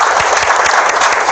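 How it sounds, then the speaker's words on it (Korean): Audience at a reading talk show clapping together, a brief, loud, dense burst of applause that stays steady from start to finish. "자, 우리 박수 한번 좀 부탁드리겠습니다."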